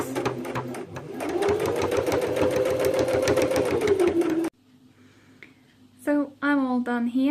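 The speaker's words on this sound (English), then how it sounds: "I'm going to just go all the way around with a nice simple straight stitch" A sewing machine runs a steady straight stitch around the edge of a quilted comforter, its fast even needle rhythm loud and close for about four seconds, then stops; a voice speaks briefly afterward.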